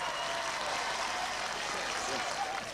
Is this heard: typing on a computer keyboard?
no